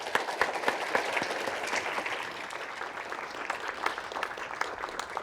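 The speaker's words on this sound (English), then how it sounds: "Let's give them all a round of applause." Audience at an economics careers panel event gives a round of applause, dense steady clapping from a moderate-sized room, fairly near and even throughout, tapering slightly toward the end.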